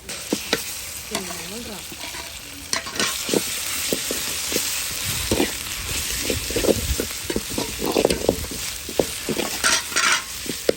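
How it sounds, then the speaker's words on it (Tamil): Onions sautéing in a pan until brown crackle with a continuous loud sizzle, punctuated by scraping and clinks of a spatula stirring against the pan. "வெங்காயம் நல்லா ப்ரௌன் ஆகிற அளவுக்கு எப்பயுமே வதக்கணும்."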